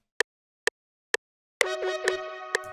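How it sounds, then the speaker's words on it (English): Three evenly spaced metronome count-in clicks from music production software, loud and crisp against silence, followed by a synth chord entering with a further click ticking over the sustained tone. "I'm put the metronome on with the little countdown."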